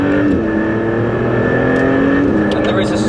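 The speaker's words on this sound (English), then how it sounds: "We get a sharper throttle, slightly more aggressive gear shifts with that little kick in the back from the 8-speed dual clutch." Maserati MC20 with an 8-speed dual-clutch gearbox in Corsa mode, its engine droning loud and steady from inside the cabin, with pitch steps at gear shifts and a voice talking over it.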